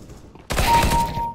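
A sudden loud burst of automatic gunfire in the CS:GO video game starts after a quiet moment and continues as close, rapid shots to the end.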